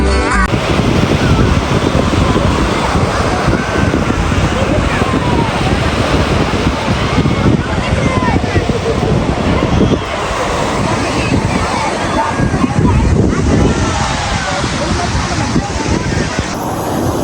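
Ocean waves roll onto a Vizag beach in Visakhapatnam under strong wind buffeting the microphone, a loud continuous surf roar with surging swells, and a brief dip midway.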